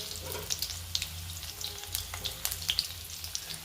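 Stuffed bitter gourds sauté over a very low flame in a pan, crackling and spitting close up in a steady sizzle with scattered sharp pops and no voices.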